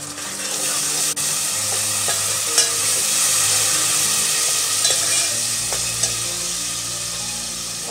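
A loud, continuous sizzle of tomato paste frying in a pan after garlic and ginger, with occasional stirring clicks and scrapes.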